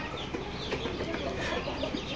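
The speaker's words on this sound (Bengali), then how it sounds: "এখানে হচ্ছে লেয়ার মুরগি প্যারেন্টস দেখতে পাচ্ছেন" Layer chicken parent stock on a poultry farm cluck and chatter in a busy flock, overlapping calls coming close and continuous with no talk.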